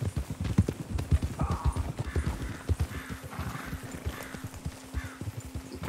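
Horse hooves clip-clop in a steady, close rhythm in Red Dead Redemption 2, with a horse whinnying in the middle and a low background hum throughout.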